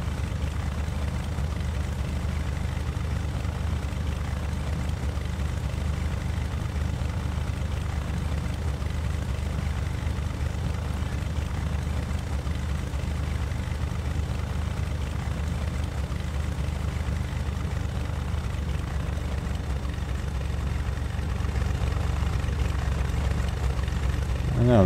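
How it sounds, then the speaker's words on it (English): Airplane engine in Flight Simulator X, a steady continuous drone held at constant level for the whole stretch, with no obvious change in pitch. "It is my plane making that sound."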